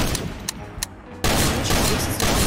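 A fast-firing gun in Garry's Mod lets off a couple of sharp single shots, then a sustained, loud stream of rapid fire that continues to the end.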